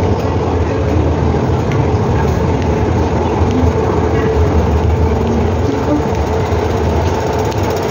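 Train standing at a station platform on the Hong Kong metro, with a steady loud rumble and hum of the carriage and platform filling the whole stretch without break.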